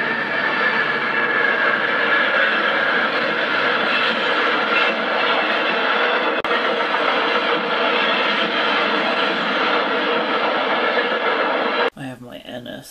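A real Roadrailer freight train of road trailers runs past on rails as a steady, loud, continuous rumble with faint clatter, cutting off sharply near the end.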